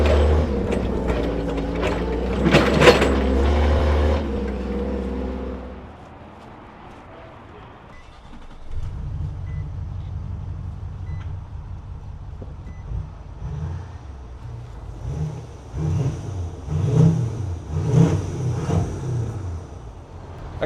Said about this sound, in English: I got a Nissan Titan in here that's intermittently making a bad noise, and they say now it's making the noise.